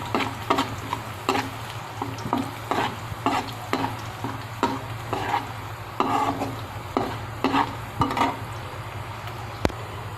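Garlic fries in a pan while a spoon stirs it, giving a steady sizzle under a rhythmic series of scraping, knocking strokes against the pan.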